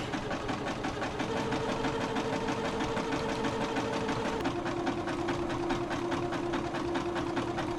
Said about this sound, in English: my machine keeps eating this fabric